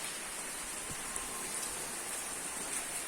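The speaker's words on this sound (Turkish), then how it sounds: "Ya yağmur var da dolayı fazla gezemiyorum yani." Rain falling steadily in the countryside near Karadaş village, a soft, even, faint hiss of drops with no other sounds standing out.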